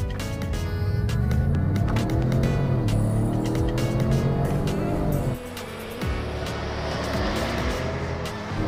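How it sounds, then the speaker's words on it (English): A 2022 Ford Expedition Limited Stealth Edition with a 440-horsepower engine pulls away from a stop, its engine note droning and rising in pitch, dipping briefly at a gear change, then climbing again, heard from inside the cabin without speech. "A little slow off the line, but once it gets going, pretty good pickup."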